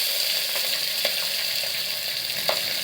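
Onion and green chilli fry in a pan with chana dal, a dense, steady close sizzle with a few small pops and crackles, heard alone throughout.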